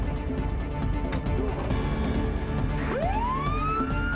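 Ambulance siren pulling away from an accident scene, a wailing tone rising sharply near the end over steady traffic and engine noise.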